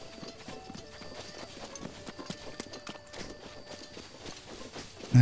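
Hooves of wild horses in Zelda: Breath of the Wild clip-clop in a quick, irregular patter from several horses moving together, fairly quiet and steady, with no voices.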